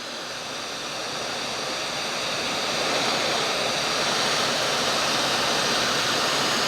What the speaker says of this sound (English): So now I'm using my surface mount gun to heat the hardware.